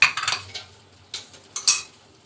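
Yogurt being stirred into fried chicken in a pot for a traditional Painda (Sobat) dish, a few sharp metallic spoon scrapes and clanks against the pot in short bursts with quiet gaps between.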